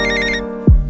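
Synthetic telephone ringtone in a rap track, a bright warbling ring for about half a second, then a deep bass drop takes over, loud and close.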